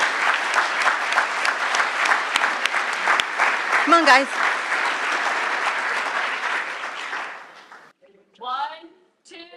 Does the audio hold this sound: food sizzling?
no